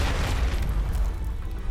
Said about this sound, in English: these guys love to throw grenades